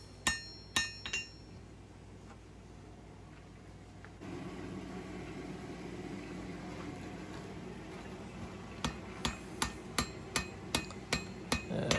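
A blacksmith's hammer rings on an anvil while free-forging a small everyday-carry blade, with a few sharp strikes early, a lull over steady workshop noise, then a fast regular run of bright metallic blows.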